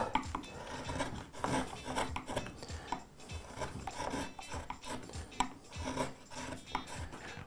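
Hand carving gouge, tool number 9, cutting a channel into a spoon of old, rock-hard walnut, giving repeated close scraping and rasping strokes in an uneven rhythm with no talk.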